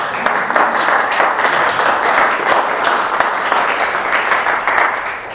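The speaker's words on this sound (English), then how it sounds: "You can pause for a clap." Loud, sustained applause from an audience at a speaker series talk, a dense wash of many hands clapping continuously before tapering slightly at the end.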